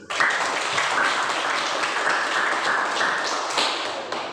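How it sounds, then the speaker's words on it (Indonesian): Applause from a classroom or training-session audience comes as a burst of quick, busy clapping that keeps up for several seconds, fairly close, with no talking. "Berikan aplaus."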